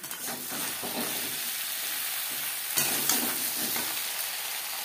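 Ridge gourd pieces sizzle in a pan of frying potatoes, a steady close hiss and crackle with spatula stirring scrapes and a sharper burst of spitting oil near the middle.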